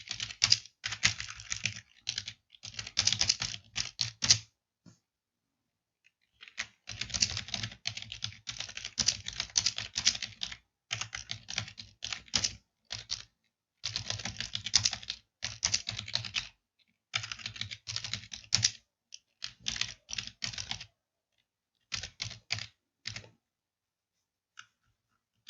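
Someone touch-types on a computer keyboard in rapid bursts of clicking keystrokes separated by brief pauses, close and clear, with no talking.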